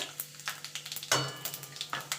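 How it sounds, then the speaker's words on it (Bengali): Dried red chillies and five-spice seeds fry in hot oil in a Bengali kitchen, giving a close, steady sizzle broken by repeated short stirring scrapes, with one louder hiss burst midway. "এবার ফোড়নটা একটুখানি ভাজা ভাজা করে নেব।"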